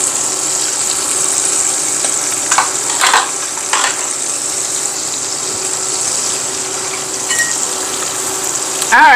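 Calabash shrimp deep frying in hot oil give a steady, close sizzle with a few brief clatters as pieces are moved, ending in a short sharper knock.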